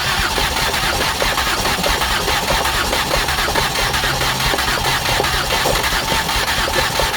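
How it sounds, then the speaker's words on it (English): A 2008 Ford Escape engine cranks continuously during a cylinder compression test, a dense, steady mechanical churn with a rhythmic pulse, loud and close with no talking. "So crank it up as soon as you can."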